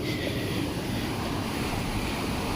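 Steady broadband wash of monsoon surf at the shore, continuous and fairly loud, with a windy rush over the whole stretch.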